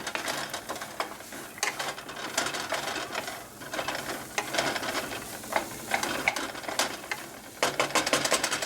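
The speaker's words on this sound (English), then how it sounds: "And I'm going to go ahead and stir that together really well." A spoon scrapes and clicks in a pan as chopped green beans and onion are stirred into a chicken lumpia filling, making brisk, irregular strokes over a soft background sizzle.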